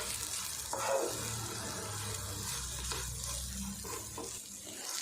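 Brinjal (eggplant) pieces fry on a low flame and are stirred in a pan, with a soft, continuous sizzle and occasional scraping of the spoon. The sound is faint and close, with no talking.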